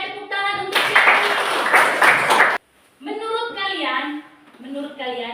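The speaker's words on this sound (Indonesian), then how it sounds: "tepuk tangan untuk siapa ini?" A classroom gives a short burst of clapping, loud and dense for about two seconds, with a voice talking before and after it.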